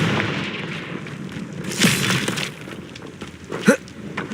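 Two Confringo fire spell blasts in the Hogwarts Legacy video game, each a sharp bursting crack with a brief boom, about two seconds apart over a busy rumbling game backdrop.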